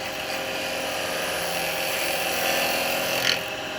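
A woodturning lathe spins a piece of seasoned wood while a tool slices it, producing a steady, close whirring hiss with a faint high whine that holds evenly throughout.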